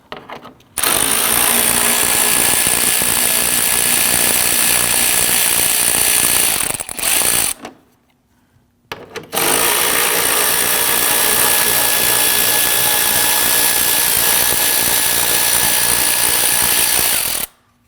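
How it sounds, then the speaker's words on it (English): A power tool, likely an impact wrench, rattles out 10mm bolts across the front of a 2010-2019 Ford Taurus, with two loud, close, sustained hammering bursts separated by a short pause. "Across the front here, we want to go ahead and remove the series of 10mm bolts."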